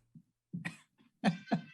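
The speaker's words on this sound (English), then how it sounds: "me clearing my throat, getting ready to speak" A person clears their throat close to a microphone in a few short, gruff bursts, the last two loudest, with brief silences between them.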